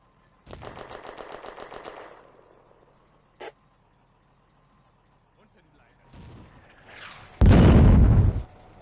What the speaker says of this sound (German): Time for an artillery strike against the BT-7 in the church.